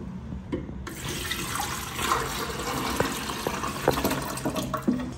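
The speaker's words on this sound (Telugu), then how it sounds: "దీంట్లో ఇప్పుడైతే నేను వాటర్ ఫిల్ చేస్తున్నాను" Steady rush of running water pouring into a coffee machine's reservoir, continuous and fairly close, with faint clinks and knocks over the flow.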